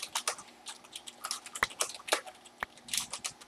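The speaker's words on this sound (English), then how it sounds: "I just got the Corsair K55 RGB keyboard." Typing on a Corsair K55 RGB keyboard, a fast, uneven run of close, crisp key clicks and taps, with no talk.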